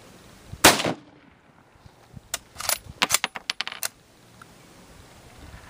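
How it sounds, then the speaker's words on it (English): A Mosin Nagant rifle fires at an outdoor range, with one sharp loud report followed by a quick cluster of fainter cracks and clicks, no talking. "shooting the Mosin Nagant"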